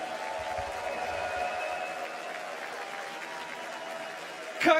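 An arena crowd at a Hamburg esports event applauds and cheers in a steady, dense wash of clapping, with a brief louder swell at the end.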